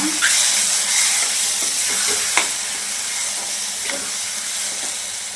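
Mushroom masala with fennel powder sizzles in a frying pan as a spoon stirs it, a steady close hiss broken by a few scraping strokes.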